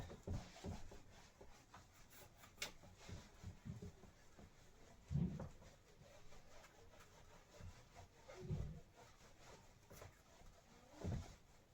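Rubbing on a teacher's board in a physics lesson, heard as faint, irregular scraping and swishing strokes in a quiet room.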